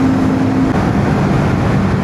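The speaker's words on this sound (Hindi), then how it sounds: "शेरपा इंजन बहुत ज़्यादा आउटस्टैंडिंग इंजन बनाया है रॉयल एनफील्ड ने" A Royal Enfield Guerrilla 450 with its Sherpa engine cruises along a highway, a steady, loud motor drone blended with wind rush that holds constant throughout.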